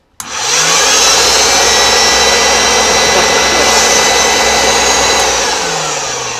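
A Hoover Junior 1334A vacuum cleaner with a dry motor starts abruptly and runs loud and close, a steady harsh roar with a high whine on top that holds for several seconds, with faint speed shifts at start and end.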